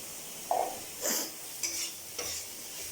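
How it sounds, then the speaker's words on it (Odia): Fried mushrooms stirred into a sizzling masala in a pan, with several distinct scraping stir strokes over a steady light frying hiss, close and clear, no talking. "ସେଥିରେ ଏବେ ଆମେ ରଖିଥିବା ଛତୁକୁ ପକାଇଦେବା, ଭଜା ହେଇ ରଖିଥିବା ଛତୁ"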